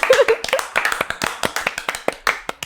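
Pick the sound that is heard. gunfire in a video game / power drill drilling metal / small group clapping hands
small group clapping hands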